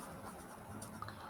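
A pen or pencil writes a sentence on paper, giving a soft, faint scratching for a brief moment in a quiet room.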